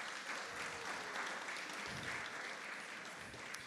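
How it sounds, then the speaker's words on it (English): Audience at an innovation and entrepreneurship awards night applauds for Sundar, a steady, fairly faint wash of many hands clapping with no pauses. "can we give Sundar a round of applause?"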